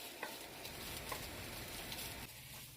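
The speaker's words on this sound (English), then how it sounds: "I'm going to go ahead and saute my onions just until they're nice and soft." Onions sauté in a pan for eggs in sauce with nopales, a soft continuous sizzle and crackle with a few light stirring clicks, fairly quiet and close.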